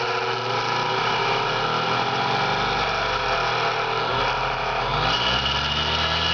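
A woodworking carver's sharpening machine spins up fast toward 10,000 RPM, its loud steady whine and hum mixed with a continuous rattle from the loose plate and top.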